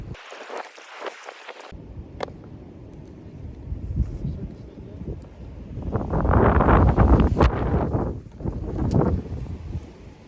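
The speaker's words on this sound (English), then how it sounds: "Very, very windy." Gusty wind buffets the microphone in heavy, rumbling bursts that swell and fade, with a brief quieter moment early on.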